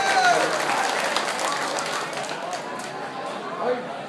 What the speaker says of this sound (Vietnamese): Xin quý vị một tràng pháo tay thật to để cổ vũ anh Đoàn Viên.